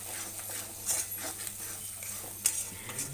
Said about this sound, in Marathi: चांगला मसाला भुसतोय